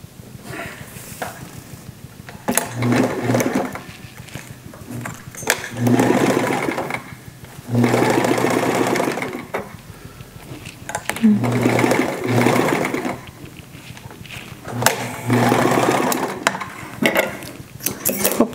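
A sewing machine runs in repeated bursts of a few seconds each while stitching bias binding around a nightgown neckline, with short pauses between runs and someone talking in the gaps.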